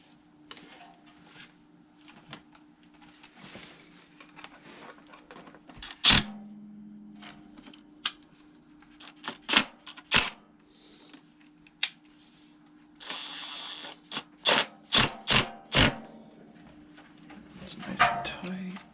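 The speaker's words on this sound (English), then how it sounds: "Get all these tightened up." Bolts on a stripped-out HVAC motor mount are tightened with a tool, giving scattered sharp clicks and ratcheting bursts over a steady motor hum, with a few louder snaps near the end.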